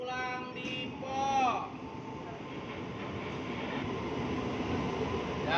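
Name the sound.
KRL commuter train at a busy station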